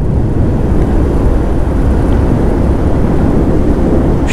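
A motorbike ridden alone along a road through dense sal forest, heard as a loud, continuous low engine and wind rumble that stays steady throughout, with no speech.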